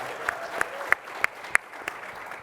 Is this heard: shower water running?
no